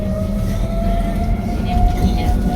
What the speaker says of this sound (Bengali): ট্রেনটা ছেড়েই দিল